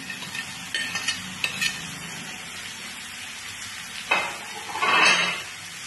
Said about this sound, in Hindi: आलू गोभी को हम अच्छी तरह से मसाला में मिक्स कर देते हैं।